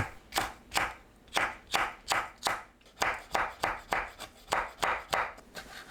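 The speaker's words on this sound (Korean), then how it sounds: "파, 청양고추, 홍고추는 어슷 썰어주세요." A knife slicing green onion, cheongyang and red chili peppers on a cutting board, making about fifteen crisp, evenly spaced chops at close range with no talking.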